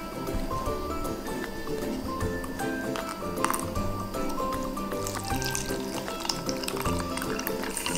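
Liquid pours steadily into a measuring container, a continuous trickling fill with small splashes and drips, close up throughout.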